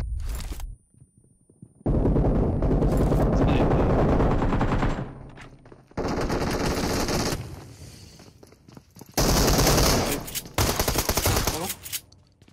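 Video game gunfire rings out in loud, close bursts of rapid automatic shots, separated by short pauses and quieter stretches with faint footsteps and movement.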